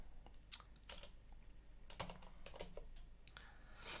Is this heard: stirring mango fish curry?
no